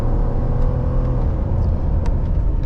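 Lifted Ford F-150 pickup with an S&B cold air intake accelerating at about 70% throttle, a loud, steady engine roar and rumble heard from inside the cab with no speech.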